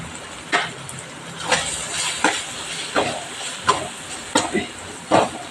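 Softened tomato pieces with a spoonful of chili powder cooking in a pan for an okra fry give a steady hiss, broken by a scraping stir stroke about once a second.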